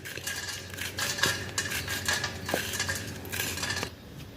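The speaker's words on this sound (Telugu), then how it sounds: "ఈ విధంగా కాకరకాయలు చక్కగా గీరుకోవాలన్నమాట" A knife scrapes the bumpy ridges off bitter gourds with continuous rasping strokes, close and fairly loud, broken by a few sharper clicks of metal against the board.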